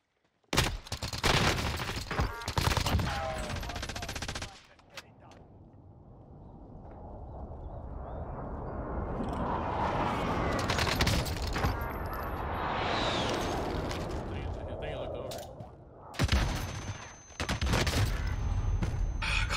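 Gunfire from an FFAR rifle in Call of Duty Cold War Warzone, loud rapid shot bursts at the start and again near the end, with rushing game ambience between them.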